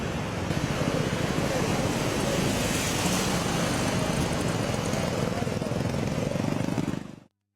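Heavy rain lashes down during the Chennai floods in Tamil Nadu, a loud, continuous roar of falling water that fills the whole stretch before cutting off abruptly at the end.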